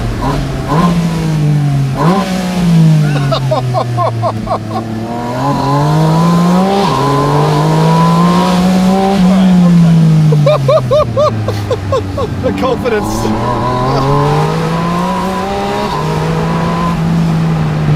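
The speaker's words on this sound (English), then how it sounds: "listen to these downshifts" A 2025 Porsche Spyder RS engine revs hard through a series of downshifts, pitch rising and falling with blips between gears, loud and close, with brief speech.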